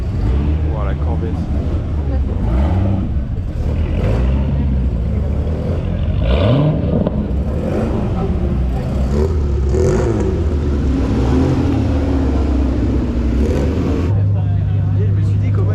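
Corvette sports car revving and accelerating on a race circuit, engine note rising and falling loud and close, with voices talking over it.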